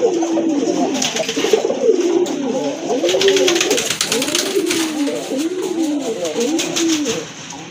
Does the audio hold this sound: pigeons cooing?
yes